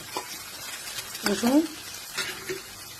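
Garlic sizzling in hot oil as a tempering for masoor dal, a soft frying crackle with stirring scrapes, close by, with a voice briefly speaking over it.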